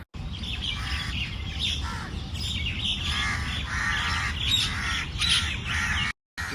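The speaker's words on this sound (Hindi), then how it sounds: "इतनी पंछियों की चैं पैं हो रही है" Many birds, crows among them, chirp and caw together in a noisy, continuous chorus while feeding along a line of scattered food in a Delhi park, with calls overlapping close by throughout.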